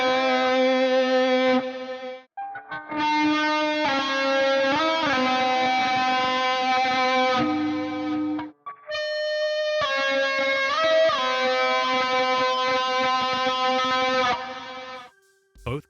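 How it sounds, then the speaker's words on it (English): Electric guitar played with an Ebow, carrying a melody from Hades 2: long, bowed-sounding sustained notes with slow swells and slight vibrato, loud and close, broken by two short gaps between phrases. "so I tried to do the main melody with a guitar and an Ebow,"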